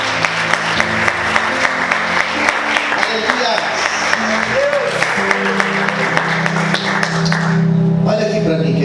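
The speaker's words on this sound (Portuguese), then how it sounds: "Quantos podem aplaudir Jesus" Church congregation applauding during a worship service, steady dense clapping throughout that swells louder near the end, with organ or keyboard tones sustained underneath.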